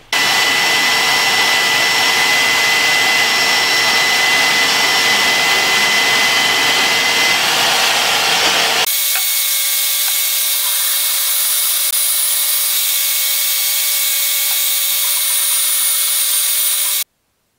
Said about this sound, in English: we're going to cut them out here on the porta band